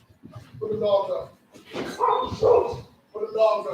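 Dogs bark at a home door during a delivery, a few close, loud bursts with people talking over them.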